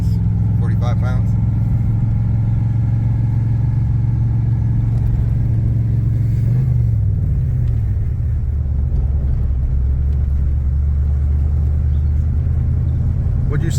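A 1984 Z28 Camaro running and driving down the road: a loud, steady low engine rumble whose pitch drops and shifts about halfway through, then settles into a deeper drone.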